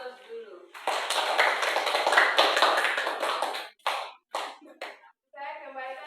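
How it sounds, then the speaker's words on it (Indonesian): A group of students at a school session clap together in a dense burst of applause lasting about three seconds, followed by a few scattered claps and then speaking voices. "Oke, beri aplaus dulu."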